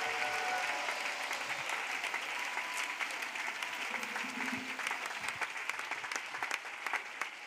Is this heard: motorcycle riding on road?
no